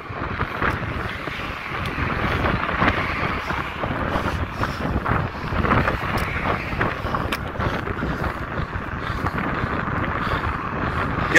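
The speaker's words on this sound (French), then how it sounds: "Il y a du vent les amis." Strong wind gusting steadily on the Île de Ré coast, a loud broadband roar with buffeting on the microphone that holds for the whole stretch with no break.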